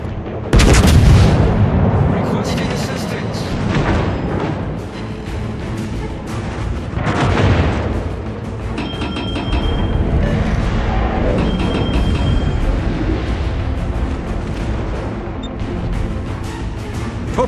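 Heavy naval guns fire in World of Warships, with a loud opening salvo and further booming shots and explosions over a constant roar of battle, lasting the whole stretch.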